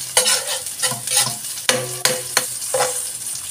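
Garlic and chili sautéing in a pan for a vegetable and fried fish dish, with loud, close sizzling and repeated scraping stirs and no talk.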